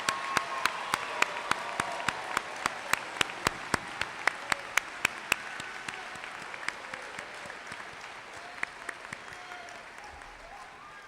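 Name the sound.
applause for graduates at commencement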